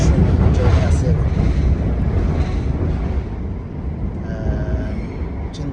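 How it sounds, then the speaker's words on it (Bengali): Riding inside a moving train produces a loud, continuous rumble with rattling and a steady low roar throughout, heard close up with faint wind-like hiss and no clear voices. "বিদায় দিয়ে যাওয়ার সময় ট্রেনে আছি এখন"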